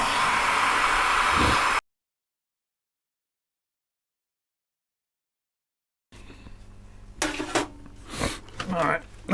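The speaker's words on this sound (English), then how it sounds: "you can use a hairdryer for this" A hair dryer roars loudly and steadily for a couple of seconds while drying a cleaned Sony remote control, then cuts to silence before quieter handling noises and clatter return.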